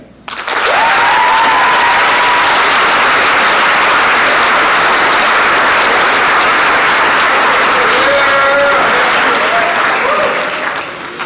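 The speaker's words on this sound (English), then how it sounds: "If they will stand and receive their applause" Sustained loud applause from an audience at a high school awards assembly for seniors with high test scores, dense clapping that swells quickly and holds steady before tapering, with a few brief voices above it.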